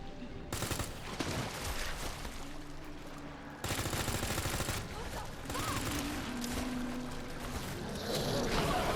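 Gunfire in the Resident Evil 2 remake on Hardcore difficulty, a dense run of shots over a constant game soundscape, with a sharp break partway through and fire continuing after.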